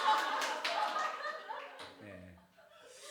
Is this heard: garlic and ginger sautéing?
no